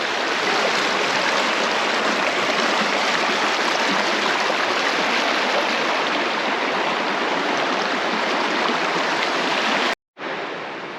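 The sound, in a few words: Whitewater River flowing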